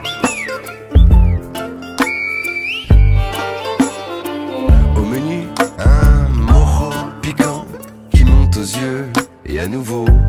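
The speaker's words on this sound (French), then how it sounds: "un guanché siffle pour s'inviter à dîner" Sharp, piercing Guanche whistled-language calls rise and fall in varied pitches, sliding and repeating like a patterned call, loud and close with pauses between phrases.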